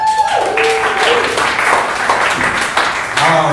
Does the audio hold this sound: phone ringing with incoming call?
no